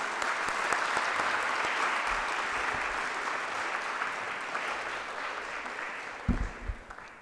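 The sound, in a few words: audience applause at school opening ceremony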